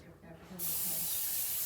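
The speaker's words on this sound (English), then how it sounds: "So I spray it." A voice speaks briefly, then a spray bottle lets out a long continuous hiss, close and loud, lasting to the end.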